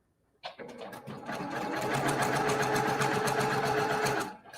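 Sewing machine stitching at a steady fast pace, starting abruptly and running continuously for a few seconds before stopping, close and clear.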